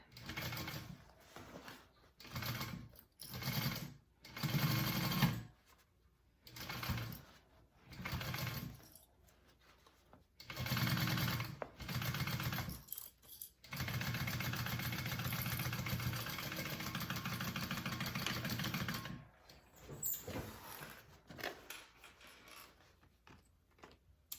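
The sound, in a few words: sewing machine stitching bag lining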